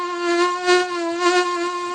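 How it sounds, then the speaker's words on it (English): A mosquito whines steadily close by, a thin, nasal buzz that swells and fades slightly as it hovers, continuous and alone with no voices. "this mosquito sound is not stopping"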